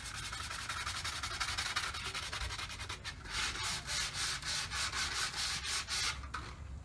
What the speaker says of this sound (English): then we just need to sand it out